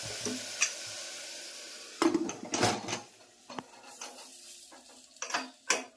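A metal lid clatters onto a pot of tomato and spiny gourd curry on low heat in several sharp knocks and scrapes over a quiet background sizzle.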